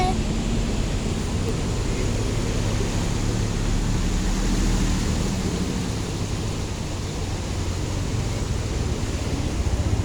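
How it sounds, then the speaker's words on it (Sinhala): Swollen Deduru Oya river floodwater surging hard against its bank, a steady, loud broadband roar of rushing water with no break across the whole stretch. "අර වටේම හේදෙනවා මේ තද වතුර එනකොට අර ඉවුරට වැදිලා ඉවුරු හේදිලා යනවා"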